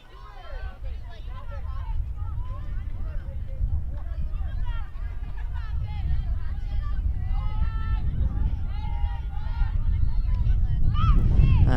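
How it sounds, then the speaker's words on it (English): Low, rumbling wind buffets the microphone at a girls' varsity softball field, swelling louder toward the end, under continuous commentary and crowd chatter. "the wind now picking up here at the field"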